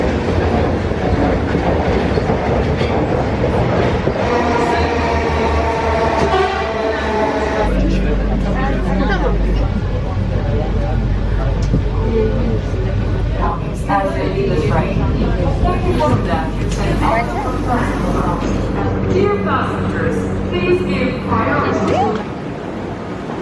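A Marmaray metro train runs in the tunnel under the Bosphorus in Istanbul with a steady loud rumble, rhythmic wheel clatter and a low drone, while people talk nearby in the carriage.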